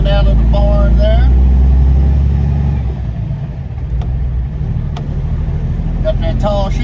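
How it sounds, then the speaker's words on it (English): Loaded Kenworth T600 hopper-bottom grain truck pulling away from a barn, with a deep engine rumble and rising revs that ease off midway, then roll on steadily while someone talks over it. "got her loaded, rolling out of the barn there"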